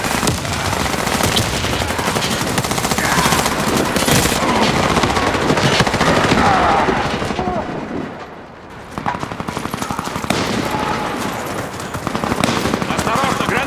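Rapid machine-gun bursts and gunshots from the shooter game Warface, with grenade blasts, fill the clip almost continuously at close range and loud level, dipping briefly midway before resuming; voices talk over the combat.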